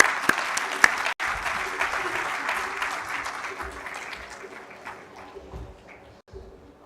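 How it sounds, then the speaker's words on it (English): A summit audience gives a speaker a big round of applause, loud and dense at first, then slowly tapering, with a couple of sharp knocks near the start. "Let's give a big round of applause."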